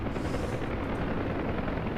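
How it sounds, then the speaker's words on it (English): A loud, steady UH-1 Huey helicopter engine roar with rotor thump in a flight simulator game, constant and close, filling the whole clip with no talking. "I mean, it's a loud helicopter, right?"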